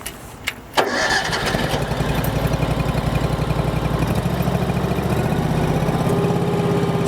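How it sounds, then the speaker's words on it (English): A SealMaster self-propelled seal coat squeegee machine's engine cranks, catches and settles into a steady, loud, close idle with a rhythmic mechanical pulse, alone without talk. "we're going to jump on board, we're going to fire this machine up."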